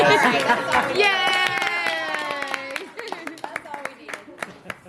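At a bridesmaid brunch, a small group of people claps in quick, scattered bursts in the second half. The clapping follows lively voices and chatter close by.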